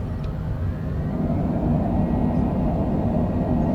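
An airliner, a Longitude, lands at Lake Charles with spoilers up and thrust reversers deployed, a loud, steady roaring rush of engine and wind noise heard from inside the cabin, with no talk.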